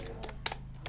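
Keys tapped on a computer keyboard during a Tally Prime accounting lesson, a few separate close keystrokes over a steady low hum, with no talking.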